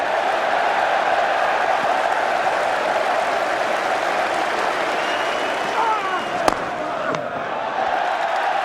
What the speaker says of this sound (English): there's a sense now that the crowd are beginning to party